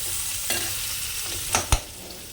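Onion half-fries in a pan with a steady sizzle. A spatula scrapes and knocks against the pan in a few distinct strokes, the loudest near the end.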